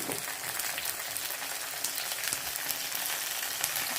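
Shallots and ground paste for vatha kuzhambu sizzle in a pan, a dense, steady hiss with occasional pops and stirring scrapes, close and moderately quiet, with no talk.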